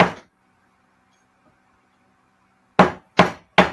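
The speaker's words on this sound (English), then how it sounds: "The rawhide mallet will not cause any marring on the metal." One sharp knock, a pause, then three quick, loud rawhide mallet strikes on a sterling silver ring in an even rhythm, close by with no talking.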